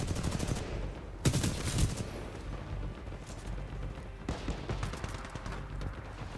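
Rapid automatic gunfire from the Alternator submachine gun in Titanfall 2, loud dense bursts of shots with brief gaps, continuing steadily throughout.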